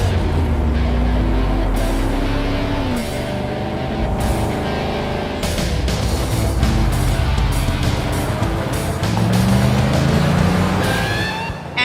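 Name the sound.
2022 Chevrolet Silverado ZR2 off-road truck engine driving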